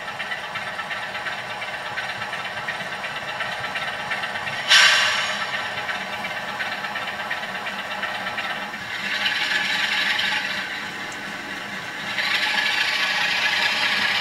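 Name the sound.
model railway Class 47 diesel locomotive pulling passenger train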